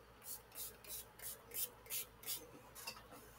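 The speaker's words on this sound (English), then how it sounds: "Last step is setting spray." Makeup setting spray is pumped in a quick series of about nine short, hissing spritzes, evenly spaced and fairly close, over a quiet room.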